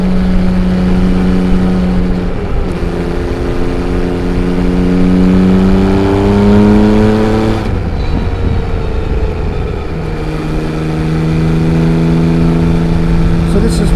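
A Yamaha XSR900 25th Anniversary motorcycle ridden along a mountain road, its engine loud and near, droning steadily with rising and falling revs through gear changes, under heavy wind rush.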